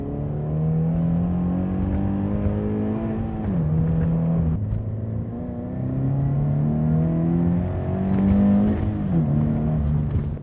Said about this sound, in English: the main thing I noticed with the new intake is that it's, I guess, a more full sound